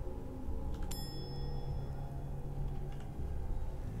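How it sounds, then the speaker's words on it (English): A bright bell chime in Fallout 4 rings out about a second in over a steady, busy game soundscape with low rumbling ambience, then lingers and fades. "ringing the bell did nothing."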